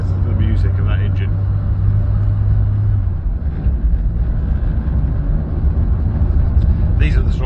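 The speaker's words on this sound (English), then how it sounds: "Listen to the music of that engine." A classic Mini engine drones steadily while driving on single-track roads, a low rumbling hum with road and wind noise throughout.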